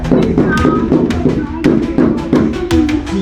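Someone bangs repeatedly on a door in a residential setting, the sharp knocks landing in an irregular rhythm of close, loud thuds across the stretch, with a raised voice in between.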